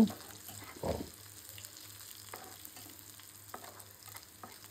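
Onion frying in a pan, a soft steady sizzle close by with one brief louder clatter near the start, then faint crackling over a low background hum.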